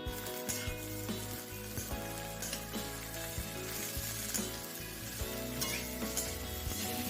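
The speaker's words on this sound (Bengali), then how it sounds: "দুধটা দিয়ে এবার সুন্দর করে ভেজে নেব" A vegetable mixture fries with milk in a pan, giving a quiet bubbling sizzle with soft stirring knocks beneath steady tonal background music.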